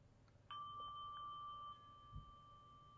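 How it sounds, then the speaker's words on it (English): A single soft mindfulness bell tone rings out and sustains briefly before fading, faint and alone against a quiet background, followed by a low thump. "mindfulness bell."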